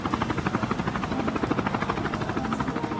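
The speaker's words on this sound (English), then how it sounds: "Kalel on that chopper." Helicopter in Call of Duty, with a close, steady rotor thump pulsing rapidly and evenly throughout, heard alone.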